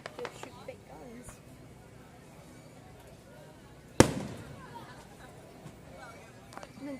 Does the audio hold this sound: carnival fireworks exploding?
yes